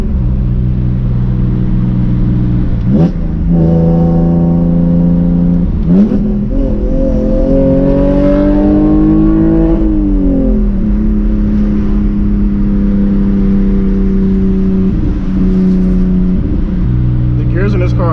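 A BMW E46 with an inline-six engine revs hard while drifting on a wet street in the rain, pitch climbing and falling with throttle over a loud constant rumble, and a voice talks over it throughout.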